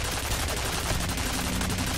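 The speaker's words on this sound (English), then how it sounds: "that's when I shoot and try to break everything that I can break in the room" Sustained automatic gunfire in the F.E.A.R. video game, loud and close, a steady rattling stream of shots with no pause.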